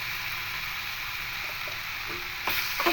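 Boiled potatoes sizzling steadily in a frying pan for aloo morich, a constant close hiss with a few soft scrapes of stirring near the end and no talking.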